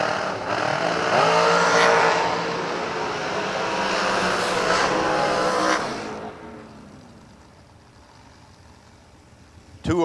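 Drag racing cars at a Stars and Stripes New Year event roar loudly off the line and down the lanes, a sustained heavy engine blast that fades away after about six seconds, with a brief loud burst near the end.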